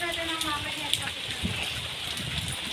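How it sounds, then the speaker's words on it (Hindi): Steady rain, following a hailstorm in Jharkhand, India, patters on surfaces, a continuous hiss with scattered drips, fairly close and moderately loud. "बारिश अब होने लगा, ओला बंद हो गया है लगभग लगभग।"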